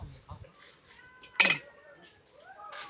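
Home-ground onion and coconut paste is dropped into a pot of crabs during an outdoor Konkan village meal, making one sharp, close clatter and plop amid quiet background sounds and soft voices.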